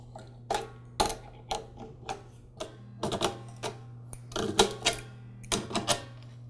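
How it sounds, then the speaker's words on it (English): A Campbell Hausfeld oilless air compressor's coupler is worked off its regulator with an adjustable wrench, giving a string of sharp metallic clicks and clanks in uneven bursts over a steady low hum, close by with no talking. "Now I'll remove the coupler from the regulator. Just use an adjustable wrench to do this."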